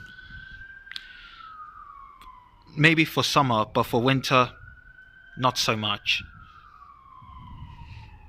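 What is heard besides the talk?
emergency vehicle sirens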